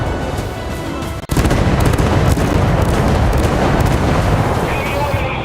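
Warship gunfire in the Navy War WW2 battleship game: a dense, loud, continuous barrage of booming blasts and rumbling explosions, broken by one brief dropout early on and then roaring steadily to the end.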